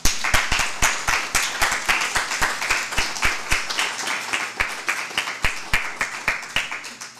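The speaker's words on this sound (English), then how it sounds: "Give another round of applause for Marco Farbetti" A small audience at a community conversation event claps, with sharp, distinct hand claps from a few people in a fairly regular rhythm. The clapping stays steady for about seven seconds, with no talking over it.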